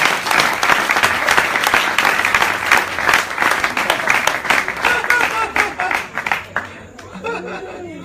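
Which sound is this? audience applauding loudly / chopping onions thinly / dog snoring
audience applauding loudly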